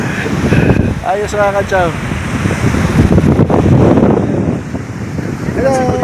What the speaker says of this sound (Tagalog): Ayun o, ang alon. Ang hangin, ang alon mga kachaw.